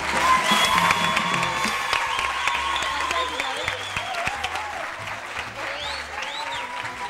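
A game-show studio audience applauds loudly and steadily throughout, with some cheering mixed in and a presenter's voice talking over the clapping.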